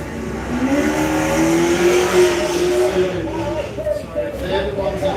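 Off-road race car engine revving at a desert racing event, loud and sustained with rising and falling pitch, a crowd murmur and talk underneath.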